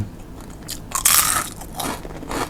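Crispy fried chicken skin, large pieces, is bitten into, giving a loud close crackling crunch around the one-second mark, followed by softer crunchy chewing.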